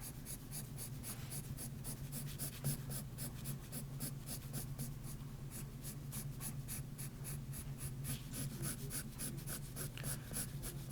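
Charcoal pencil shades horizontal strokes across paper on a drawn sphere, giving a close, steady run of quick rhythmic scratches that continues evenly throughout with no talking.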